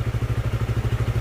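An old Honda CB150 motorcycle engine idles close by, a steady low, even putter of rapid regular pulses with a faint clattery edge, heard alone.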